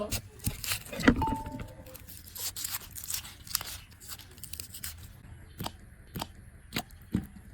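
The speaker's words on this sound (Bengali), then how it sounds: "প্রথমে পেঁয়াজগুলো কেটে নেব" Knife cutting peeled onions on a board, a string of sharp close chops and crunches spaced irregularly, with faint background noise and no voice.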